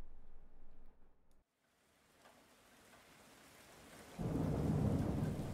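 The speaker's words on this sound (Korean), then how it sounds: "나지막한 빗소리가 들린다." Soft rain falls in a visual novel video game, a low steady patter that fades in after a brief silence and swells into a fuller, rumbling wash of rain.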